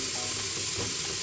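Chopped onions sizzle and fry in a pan for a green chicken gravy, a steady close hiss with light crackling, even and unbroken, no voices.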